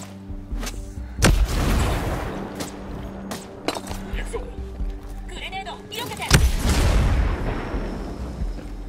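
A grenade blast in the tactical shooter Ghost Recon Breakpoint: a sharp boom around the middle rolls into a long rumbling tail, with scattered impacts and game noise throughout and a speaking voice over the top.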